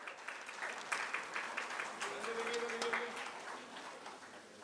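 Applause at an MSME summit, a moderate wash of clapping from an audience, steady for several seconds with individual claps standing out and a faint tone underneath, tapering slightly at the end.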